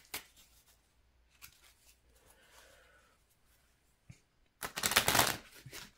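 Playing cards riffle briefly at close range, then after quiet rustling a louder, longer shuffle burst rattles near the end.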